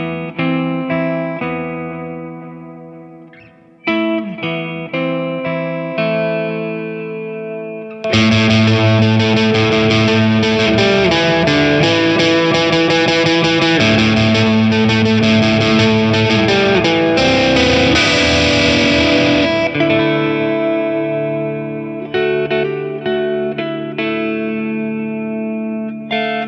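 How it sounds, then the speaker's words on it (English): Heavily distorted electric guitar through an Orange Vintage distortion pedal plays sustained chords and riffs, with a thick saturated tone that swells loud in the middle before easing back. "You've just heard the distortion sound."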